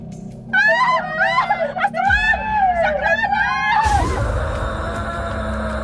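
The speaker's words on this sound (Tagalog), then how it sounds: "marinig namin ang malakas na sigaw ng kasambahay" A housemaid lets out loud, shrill screams in a rapid series of wavering cries, cut off abruptly by a sudden dramatic noise swell.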